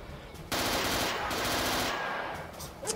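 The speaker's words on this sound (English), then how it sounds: "we're just going to mow them down with the old MG42 here." An MG42 machine gun in the Castle Totenkopf video game fires a dense, rapid burst lasting about one and a half seconds. A brief break follows before the fire resumes and then tapers off. The shots are loud and close, with no talking.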